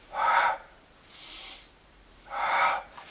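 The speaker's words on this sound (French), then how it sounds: "Expire, inspire." Two strong, airy breaths about two seconds apart during a Pilates back and abdominal exercise, with a softer breath between them, close and alone with no talk.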